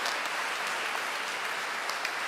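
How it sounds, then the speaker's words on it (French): Congregation applauding at a Catholic mass, steady dense clapping from a large crowd filling the space throughout, moderately loud with no voices over it. "Cela mérite notre applaudissement, n'est-ce pas?"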